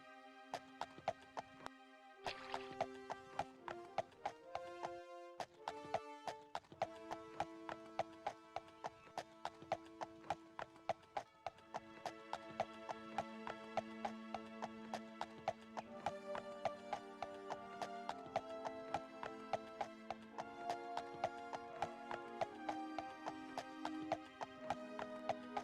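Rhythmic horse hooves clip-clop steadily through a ride in Elder Scrolls II, a clear, even beat set against continuous game music with no talk.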